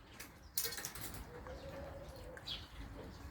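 Red-crested and white-crested Livingstone's turacos flap their wings in an aviary, a few soft bursts of fluttering close by over a quiet, hushed background, with a faint call or two.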